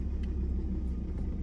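Truck engine idling low and steady while parking with an off-road trailer at a winter campsite, a continuous close rumble with no talk over it.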